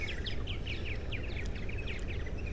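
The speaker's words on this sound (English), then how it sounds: "I heard these lovely birds just going absolutely crazy." Birds chirp rapidly and repeatedly in a neighborhood, with a steady stream of bright, short tweets over a low background hum, moderately close.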